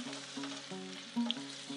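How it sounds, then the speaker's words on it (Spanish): A chopped onion sizzles in a hot frying pan for a vegetarian chop suey. The frying hiss is steady and continuous over a low background hum, without speech. "Cuando pongo la cebolla o el ajito y el sartén chilla, me gusta."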